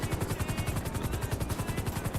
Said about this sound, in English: Damn fucking helicopter.